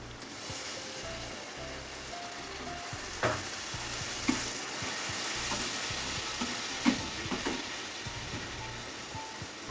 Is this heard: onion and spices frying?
yes